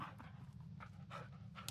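Rapid, steady dog panting from the companion dog in the video game Blair Witch, a run of quick breathy puffs close by, quiet against a low rumbling background hum with no talking.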